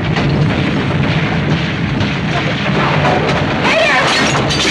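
A bomb explosion in the 1959 film The Diary of Anne Frank, a loud, dense rumbling blast with crashing debris that fills the whole passage at high level, with a brief whistling sweep near the end.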